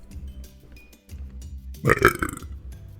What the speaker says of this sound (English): Oh no, I'm gonna burp.